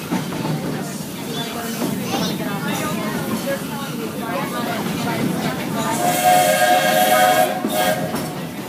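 A Walt Disney World Railroad train rolls into Fantasyland Station with steady rumbling and clattering, then a bright whistle-like tone near the end, under continuous passenger and announcer talk.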